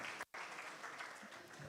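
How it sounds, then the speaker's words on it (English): Audience applause at a sustainability report launch, a brief faint patter of clapping in a room. "A round of applause to her"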